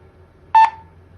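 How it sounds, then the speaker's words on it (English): A Mobotix door station gives one short, clear electronic beep as an RFID card is held in front of it and read, in an otherwise quiet room. "So it basically beeps"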